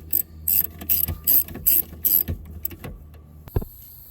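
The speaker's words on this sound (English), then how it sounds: "Just going to start snugging these 16s down a little bit." A hand ratchet tightens 16 mm valve cover bolts on a 2008-2012 Nissan Rogue, giving several quick bursts of close, rapid clicking, then a brief metallic clunk near the end.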